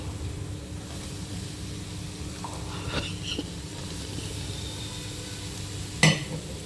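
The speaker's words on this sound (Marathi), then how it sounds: "नंतर याच्यामध्ये आपल्याला कॅप्सिकम टाकायचं आहे" Capsicum dropped into hot spiced oil in a pan gives a steady, moderate sizzle and hiss, with a few faint stirring sounds and one sharp utensil clink near the end.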